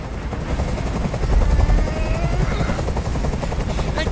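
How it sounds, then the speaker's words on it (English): A video game helicopter hovers overhead with a steady, loud rotor chop and engine drone that swells slightly near the middle and continues throughout, with no talk over it. "I can't stand that noise anymore. Tell that helicopter to get out of here."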